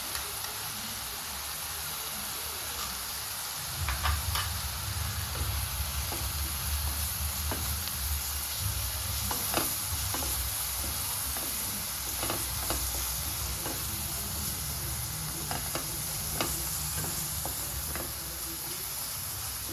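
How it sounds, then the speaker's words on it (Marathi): Spices for egg masala sizzle and fry in a hot pan with steady hissing, punctuated by faint scraping stirs, close and moderately quiet. "छान परतून घेऊ"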